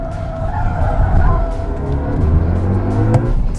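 BMW i5 electric sedan, a luxury electric-motor car, squealing its tires hard under acceleration on a test drive; a loud, continuous screech with the vehicle's rush close by, no talk over it.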